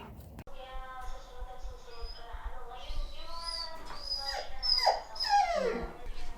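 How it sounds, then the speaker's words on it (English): A Cane Corso puppy whines and cries in its crate, a continuous high, wavering whimper rising into sharper squeals, close and fairly faint against a low background hum. "The puppy is whining in the crate, crying in the crate"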